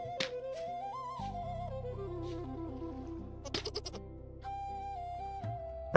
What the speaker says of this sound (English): we have captured a family of goats and their adoptive son, Bunny.